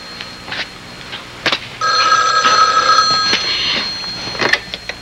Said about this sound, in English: Is anybody gonna answer the phone?